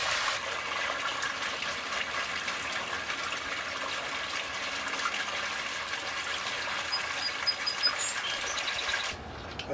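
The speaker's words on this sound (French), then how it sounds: "On enlève le drain pour enlever l'eau dedans." Water gushes steadily out of the drain on a pool cartridge filter, a continuous close splashing rush that holds level for about nine seconds before cutting off abruptly.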